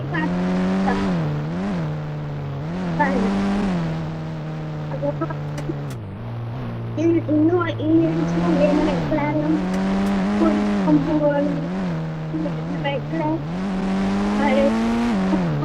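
A blue Ferrari's engine drones steadily in Indian Bike Game, its pitch rising and dipping as it revs, with faint tire squeals and skids over roughly fifteen seconds of continuous, fairly loud game audio.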